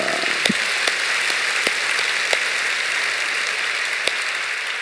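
Applause from a church congregation at a Friday night worship service, a steady wash of many hands with a few sharper claps standing out, continuous and moderately loud with no talk over it.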